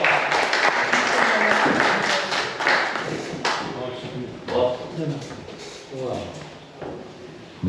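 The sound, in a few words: audience applause welcoming poet Basir Kazmi at mushaira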